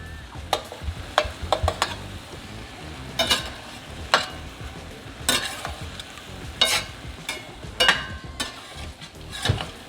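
Garlic shrimp fry in a pan, a constant sizzle broken by repeated sharp scrapes and clatters as the shrimp are stirred and flipped, close and clear with no talking.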